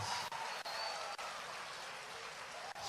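A church congregation claps for Jesus during a service in a dense, even, sustained burst of applause, with no breaks in the clapping.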